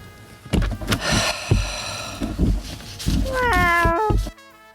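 A house cat lets out several loud, close meows, starting with a burst of drawn-out cries and ending in one long, wavering yowl before the sound cuts off.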